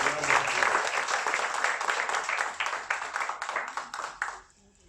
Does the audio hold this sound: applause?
yes